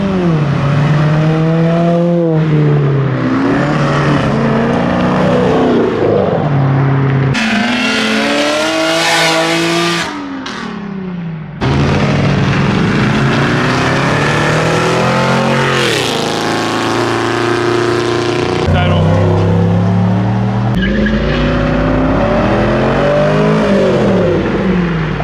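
Modified cars leave a Texas car show one after another, their engines revving hard and accelerating past in loud, rising and falling roars, with sharp throttle blips and a brief lull midway.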